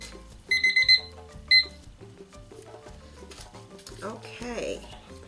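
A kitchen-style countdown timer rings out after resin has been mixed for five minutes, giving two loud bursts of rapid, bright alarm beeps near the start, then quieter background sounds and faint activity.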